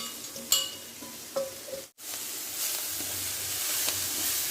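Onions sautéing in a pan for line keerai poriyal (a Tamil spinach stir-fry), giving a steady frying hiss with a few scrapes and stirring knocks early on, a short gap, then a continuous sizzle.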